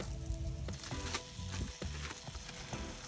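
Butter sizzles in a hot pot set up outdoors in a beach parking lot for a chicken francese lunch, a steady close crackle with scattered louder pops and low rumbling under it throughout.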